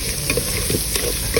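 Pork sizzles in a hot pan while a utensil scrapes and stirs it, with a steady crackle and occasional clinks.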